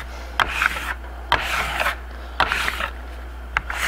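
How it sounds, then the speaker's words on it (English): A steel trowel rubbing back over waxed Venetian plaster in repeated strokes, each a close, rasping scrape about a second long, separated by sharp clicks as the blade turns, with a low steady hum underneath. "And then trowel back over it."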